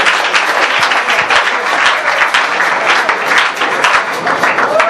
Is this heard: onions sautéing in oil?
no